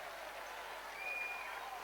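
A football crowd at an FAI Junior Cup final between Westport United and Waterford Crystal applauds steadily, a distant, even wash of clapping and crowd noise heard alone.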